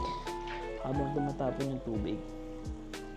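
Aquarium water pours and trickles out of a tank during cleaning, bubbling and splashing at close range for about three seconds.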